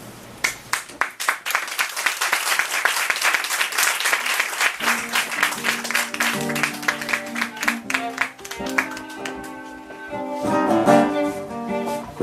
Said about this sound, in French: Rebecca Magano, on applaudit encore une fois s'il vous plaît.